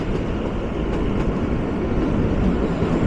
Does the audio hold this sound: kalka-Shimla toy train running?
yes